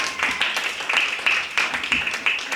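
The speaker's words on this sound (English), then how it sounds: "We should give them a big round of applause." A small audience clapping at a community health meeting, a thin but distinct run of claps in uneven bursts, close and moderately loud.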